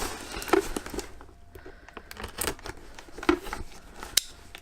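Plastic packaging being cut and torn open with a knife for a Chewbacca mask, giving sharp scattered snips and crinkles up close, with brief quiet gaps between the bursts.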